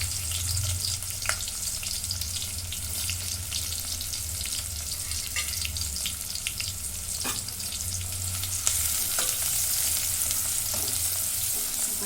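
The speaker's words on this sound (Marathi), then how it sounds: "कांदा मी चांगला भाजून घेते" Onion with cumin seeds frying in a pan, making a steady dense sizzle with occasional sharp crackles and spoon scrapes, close and continuous for the whole stretch, with no talking.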